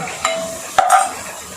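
Onions fry in a pan for a dal, with a brief close sizzle and a couple of sharp spatula scrapes against the pan.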